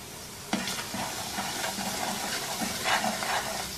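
Semolina roasts in ghee in a pan, a steady soft sizzling hiss with occasional light scraping stirs, close and fairly quiet, with no talking.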